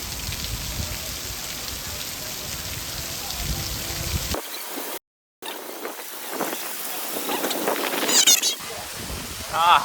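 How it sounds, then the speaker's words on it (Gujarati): Heavy rain pelting down around a JCB and tractor, a dense hiss for the first few seconds, then broken by a dropout and patchier splashing with voices mixed in. "કેમેરાને પાણી લાગી ગયું એટલે વરસાદ આવી ગયો"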